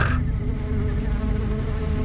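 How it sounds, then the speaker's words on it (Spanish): Flies swarm and buzz around a corpse at a wake, a dense, continuous droning hum that stays loud and close throughout, with no voices. "Las moscas aparecieron de pronto, zumbando sobre la cara y las manos."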